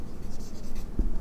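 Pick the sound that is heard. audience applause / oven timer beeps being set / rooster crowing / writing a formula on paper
writing a formula on paper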